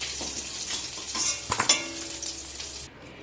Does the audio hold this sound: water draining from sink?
no